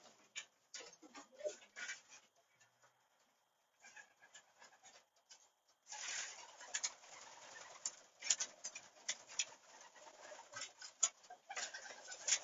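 Racing pigeons settle onto perches in a loft at dinner time, a faint close mix of soft cooing, fluttering and scraping shuffles, quiet at first and then busier and denser.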